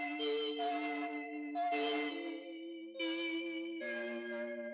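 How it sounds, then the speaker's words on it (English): A sample granulated by Ableton's Vector Grain device sounds as sustained, harmonically rich tones that swell in four overlapping segments, with grainy shimmering upper layers, played alone without any voice. "The vector grain on its own with the sample I have in there sounds like this."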